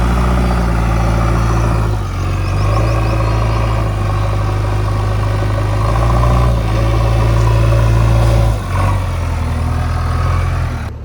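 A JCB 3DX Eco backhoe loader digging a pit on a farm, its diesel engine running loud and close with a steady low rumble that dips and surges briefly as the arm works, no voices.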